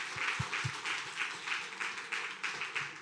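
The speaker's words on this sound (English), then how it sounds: "Can we give a round of applause to both Davids?" An audience applauds steadily, a dense wash of many hands clapping for about three seconds, with a few louder claps standing out near the front.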